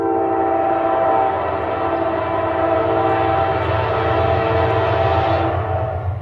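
Westbound BNSF freight train passing close and loud, a steady roar of rolling wagons and engine with a sustained horn blast layered over it throughout, no talking.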